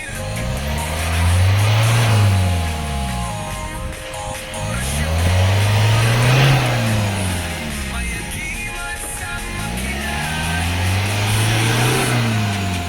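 A 2013 Ford Ranger's engine revs up to about 4,000 RPM three times in slow, even swells, each climbing and falling back to idle, loud and close with no talk.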